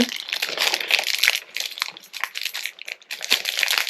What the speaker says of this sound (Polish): mogłam wziąć nożyczki, bo nie mogę tego pootwierać